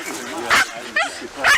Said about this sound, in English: now Nancy's dogs are barking